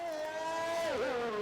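Onboard engine sound from the Racing Point car in an F1 racing video game at Australia, a steady high-pitched whine holding pitch, briefly dipping and then recovering as the revs change.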